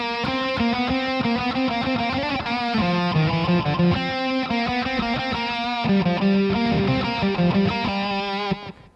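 Distorted electric guitar plays the composed outro section of a song, a continuous dense riff of sustained chords and melodic lines over a driving low end, loud and steady throughout before cutting off at the end.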